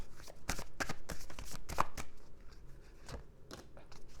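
Tarot cards shuffled by hand, a series of crisp riffling slaps and flutters in quick bursts, close and moderately loud, with no voice over them.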